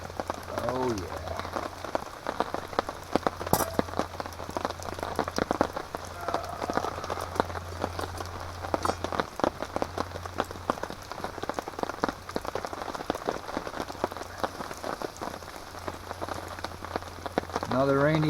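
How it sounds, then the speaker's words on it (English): Rain falls steadily at a remote wilderness campsite, dense patter of drops striking a nearby surface, continuous and moderately loud, with a low hum and a brief voice underneath. "Another rainy day."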